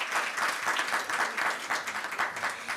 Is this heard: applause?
yes